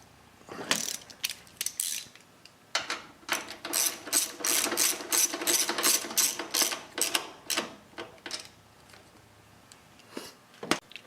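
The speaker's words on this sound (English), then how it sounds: "take the bolt for the top caddy and bolt it down." Ratchet tightening the top caddy bolt on a 2008 Harley Davidson Road Glide during a battery replacement, heard as a long run of quick, close metallic clicks in bursts, pausing briefly between strokes.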